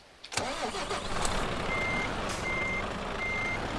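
Truck in Euro Truck Simulator 2 starts with a sudden thump, then its engine idles steadily while evenly spaced reversing beeps sound three times, close and clear, with no speech.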